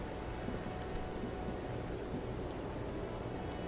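Steady rain falls in the video game Disco Elysium, a dense, even hiss of drops spattering on surfaces that holds constant and fills the whole stretch with no voices.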